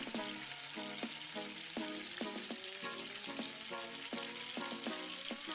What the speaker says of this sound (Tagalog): Hintayin lang natin mag-brown yung ating chicken ball. Ayan, so haluin lang natin.